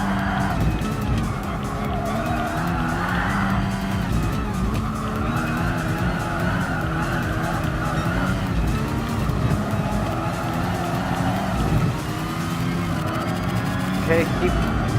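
Formula One race cars in Gran Turismo Sport, engines whining at high revs with tyre squeal as a car goes past, and a voice talking over the steady racing noise.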